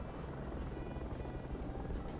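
Steady low rotor drone of a transport helicopter in flight in the game Project Reality, continuous and fairly faint, with no talking.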